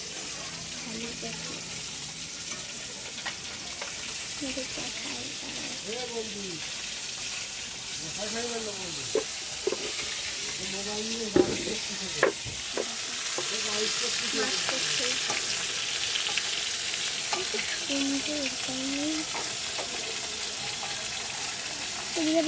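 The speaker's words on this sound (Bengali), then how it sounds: "চলো রান্না হচ্ছে আমাদের ঘরে গলদা চিংড়ি।" Giant freshwater prawns frying in a pan at home, a continuous close sizzle with occasional stirring clinks, while voices talk over it throughout.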